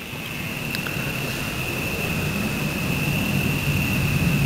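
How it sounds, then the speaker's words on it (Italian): Military jet aircraft passing overhead near Rieti, Italy, a steady broadband roar that swells gradually over several seconds, with a constant high whine running through it and no voices. "il jet era militare"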